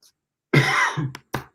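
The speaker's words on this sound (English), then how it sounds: "I got some coughing today." Two or three harsh coughs from a person, one long rasping burst followed by shorter sharp hacks, close and loud with silence between.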